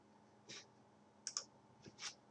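Computer mouse clicks sound on a quiet desk, a handful of short, faint, crisp taps spaced irregularly, including a quick double click, over a low background hum.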